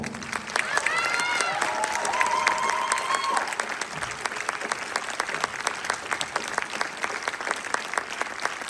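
A theatre audience applauds performers on stage, a sustained wash of clapping that grows into steady rhythmic claps, with some cheering and a few voices early on.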